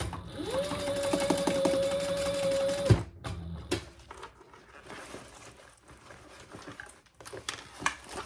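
A sewing machine stitches an on-the-go pouch in one steady, close run of about three seconds, then stops, followed by quieter handling noises.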